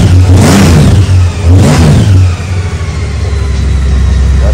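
A 2023 Harley-Davidson Road Glide 3 trike engine with no exhaust fitted revs hard twice in quick succession, loud and close, then drops back to a rough, rumbling idle.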